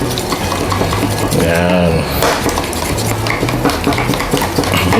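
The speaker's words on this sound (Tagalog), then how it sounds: "Mix lang po natin siya para ma-mix lahat ng ating nilagay na pang dipping sauce." A spoon clinks and scrapes steadily against a bowl while a dipping sauce of lemon and parsley is stirred, close and fairly loud, with a person speaking briefly over the mixing.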